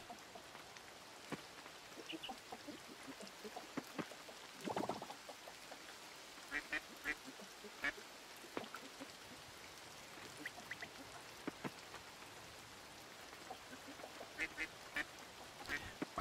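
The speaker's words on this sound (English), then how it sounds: "Quack, quack, quack, quack." Ducks quacking in the farming game Coral Island over a steady rain hiss, short scattered quacks spread across the span at low volume, with no talk.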